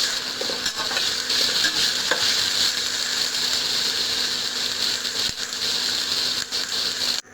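Vegetables being stirred as they fry in a pan for veg biryani: a dense, steady hissing sizzle with a few soft scraping knocks, close and even throughout.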